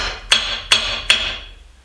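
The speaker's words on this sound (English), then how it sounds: "you take your hammer or your mallet and you" Three sharp hammer taps strike a tapping block used to fit laminate floor boards, evenly spaced and close, each with a bright metallic ring that decays quickly.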